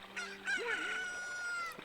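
A chicken crows a drawn-out cock-a-doodle-doo in The Legend of Zelda: Ocarina of Time Master Quest, rising and wavering over faint game background sound, clear and close.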